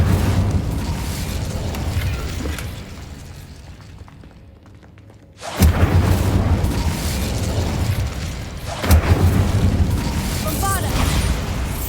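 In the video game Hogwarts Legacy, an Incendio fire spell goes off as a booming blast, followed by further heavy bursts and rumbles over continuous game noise.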